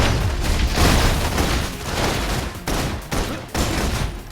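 Rapid bursts of video game gunfire in Love and Deepspace, loud and sustained, with dense overlapping shots and booms broken by short pauses.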